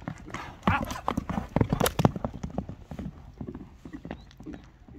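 Hooves of two horses clip-clop on the ground nearby, an irregular patter of sharp knocks with louder strikes in the middle of the stretch. People talk underneath.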